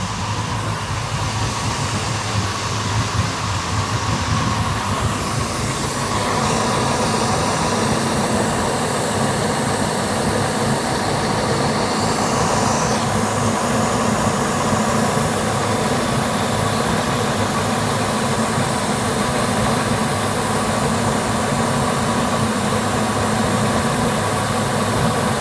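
Twin engines of a 2008 Formula 400 Super Sport boat running after warm-up, a loud, steady low rumble with a constant droning hum and no pauses, close by.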